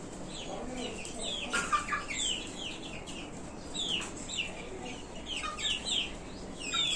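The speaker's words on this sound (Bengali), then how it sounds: "এই যে একটা বাহামা মুরগি এখানে চলে আসছে খাবারের লোভে" A flock of Brahma and local deshi chickens on a farm clucks and calls in many overlapping short notes, some near and some farther off, over a steady background hum.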